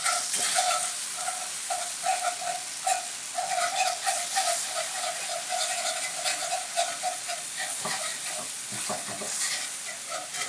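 Oatly roux sauce is whisked in a pan, with a continuous hissing sizzle and a busy, rhythmic rattle of the whisk throughout.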